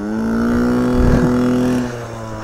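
A 1970 Honda CT70 Trail-70 motorcycle engine revs hard in soft Florida sugar sand, a steady buzzing drone that surges briefly and then eases off, loud and close.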